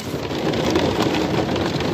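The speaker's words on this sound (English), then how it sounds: "Raining like crazy." Heavy rain pours during a tornado storm, a dense, loud, continuous hiss of drops drumming on surfaces close by, with no pauses.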